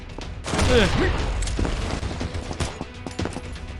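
Shotgun blasts in the mobile first-person shooter Combat Master ring out loud and close, a heavy burst followed by scattered shots and clatter, with someone talking over the gunfire.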